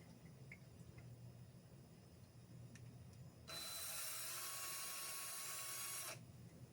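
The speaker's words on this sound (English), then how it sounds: "I'm just going to drill directly through the hole." A small drill bit bores through a hole in a cabinet for a resin 3D printer, a single high-pitched whirring burst of about three seconds after quiet handling noises, then stops abruptly.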